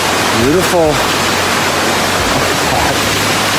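A loud waterfall in northern Bali pours down in a dense, steady roar, heard from close by as the listener passes through it. A voice briefly calls out over the rushing water.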